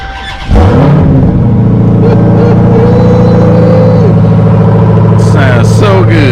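A Dodge Challenger Hellcat's engine starts up, then settles into a loud, deep, steady rumbling idle heard up close, with a faint voice near the end.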